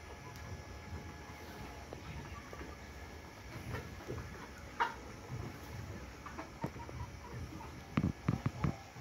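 Young layer hens cluck softly amid a steady background hum in a poultry farm, with a few sharper clucks and scratches toward the end.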